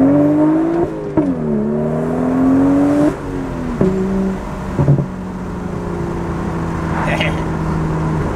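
A Stage 2 BMW 435i with an MHD anti-lag tune launches hard from close by, the engine note rising in stepped, rapid gear pulls with sharp pops at each shift, then settling into a steady drone.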